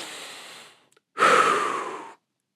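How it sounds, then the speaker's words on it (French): Close, breathy air: a long inhale tapers off, there is a brief pause, then a stronger, forceful exhale follows and fades, with no talking over it. "Prenez une grande inspiration, soufflez profondément"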